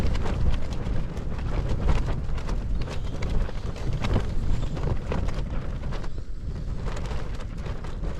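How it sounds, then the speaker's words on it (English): Strong, gusty wind on Dartmoor roars steadily and buffets the microphone with a constant loud rush throughout. "the wind has definitely done"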